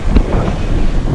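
Steady wind rushes and buffets the microphone with a constant low roar, loud and close, with no voices.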